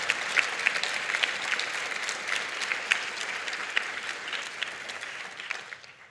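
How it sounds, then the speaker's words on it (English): An audience in a church assembly hall applauds warmly, a dense sustained clapping that carries evenly for several seconds before tapering off near the end. "can we give a round of applause to Christ the King Lutheran Church in Cary?"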